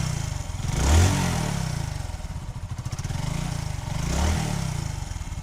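A Hero Super Splendour 125cc motorcycle with i3S runs close by, its single-cylinder engine idling with a steady thrum and rising in two brief revs, alone without talk.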